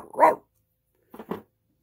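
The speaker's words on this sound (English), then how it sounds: "It's my doggy." A pet dog barks once loudly, then gives two quicker, softer barks about a second later, close by in an otherwise quiet room.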